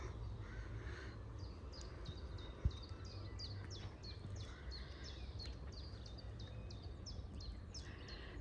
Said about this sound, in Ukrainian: Чуєте, як птички співають?